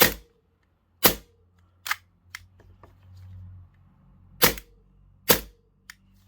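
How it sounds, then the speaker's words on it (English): A Tokyo Marui Glock airsoft pistol firing on green gas, five or six sharp, close cracks spaced irregularly over a few seconds, with faint mechanical clicks and low hum between shots. "And you'll notice it cycles extremely fast on propane or green gas."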